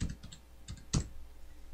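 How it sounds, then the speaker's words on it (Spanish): Someone types a short word on a computer keyboard, a handful of quick light key clicks followed by one sharper tap, close and quiet with no voices. "Si digitamos la palabra gato"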